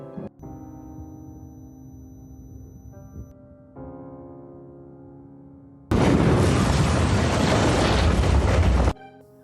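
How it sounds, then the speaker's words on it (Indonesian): A bomb blast rips through a courthouse courtroom in the Joker film, a sudden loud broadband roar bursting in after a stretch of low tonal score and rumbling for about three seconds before cutting off. "tiba-tiba pengadilan mendapat serangan bom yang menewaskan beberapa orang"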